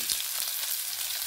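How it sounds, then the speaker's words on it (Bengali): Green chillies go into hot oil with grated ginger and garlic, producing a brief, loud, continuous frying hiss. "এবার আমি কাঁচা লঙ্কাগুলো দিয়ে দেবো, বেশি ভাজা ভাজা করবো না।"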